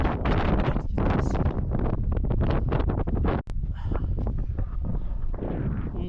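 Strong, steady wind on a mountain hike toward Mont Valier buffets the microphone, a continuous roar with gusty fluctuations and a brief dropout midway.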